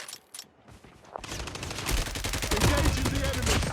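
Rapid bursts of gunfire from a video game battle start after a quiet second and build into dense, loud, overlapping shots that continue to the end.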